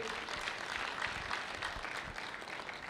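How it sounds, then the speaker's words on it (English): Applause for the sponsors at a gathering, a steady wash of many hands clapping that holds evenly throughout at moderate loudness, with no voices standing out. "Round of applause for the sponsors."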